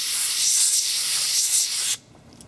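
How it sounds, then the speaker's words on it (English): A steady, loud hiss of compressed air blows off a rubber-based dental impression for about two seconds, then cuts off abruptly, leaving near silence. "blow off any excess"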